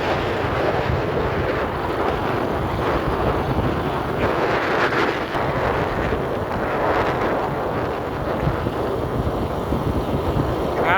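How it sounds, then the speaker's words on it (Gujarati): Wind buffets the microphone in a steady, loud roar while riding along a village road toward a large canal, with continuous rushing noise and no clear speech. "વાયરો અંદર ચેટલો આવે, મોટી તકલીફ છે"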